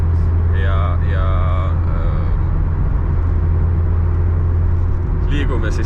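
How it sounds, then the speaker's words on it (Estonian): Modified compact car engine and exhaust rumble steadily up close, a low droning note under brief bursts of talking inside the car. "nüüd, et mu auto nagu teeb ägedaid hääli ka"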